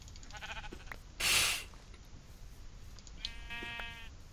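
Sheep bleating in a video game, a short, loud burst of noise followed later by a wavering bleat, set against a quiet background.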